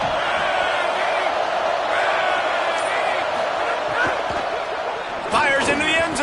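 Stadium crowd in College Football 25 roars steadily on a fourth-down defensive stand, a dense continuous wall of cheering with a louder surge near the end, heard under play-by-play commentary.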